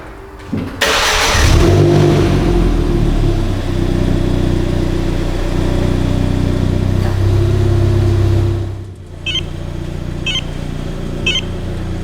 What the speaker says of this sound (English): I can use my mobile phone anywhere in the world to start this engine while the car is locked and the system is armed.